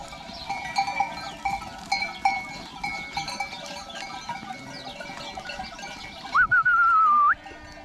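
Sheep and a ram mingle in a flock out on pasture during breeding, a soft steady murmur of the herd giving way near the end to one loud, wavering bleat close by.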